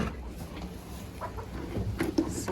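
Hens cluck softly in a chicken coop, with scattered short clucks and rustling over quiet background noise.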